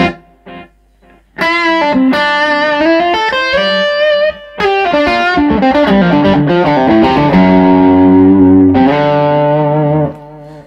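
Distorted electric guitar through a pedalboard with four-repeat delay plays a phrase of notes with echoing repeats trailing behind each one, loud and close, ending with a sustained ringing chord.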